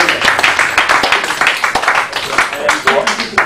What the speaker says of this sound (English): Ladies and gentlemen, a round of applause to our big gentlemen.